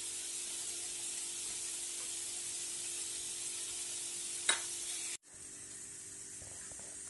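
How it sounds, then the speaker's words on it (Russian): Onion, carrot and bell pepper sauté in a pan with a steady, soft, even sizzle, broken by a brief tap and a short cut partway through before the hissing resumes. "Спассеровали наши овощи"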